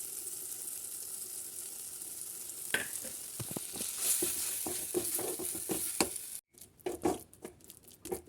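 Walnuts and nut powder fry in ghee and are stirred with a utensil, so a constant sizzle carries repeated scraping strokes before a short pause and a few final knocks.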